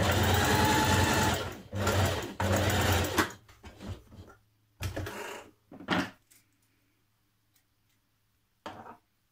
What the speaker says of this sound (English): we're going to stitch down this side of the collar at each side of the back neck